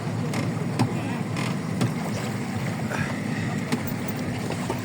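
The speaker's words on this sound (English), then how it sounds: "as the boat wobbles left and right" A small tour boat on the Mekong River Delta rocks from side to side, its hull creaking in irregular knocks over a steady wash of water and motor rumble, close and continuous.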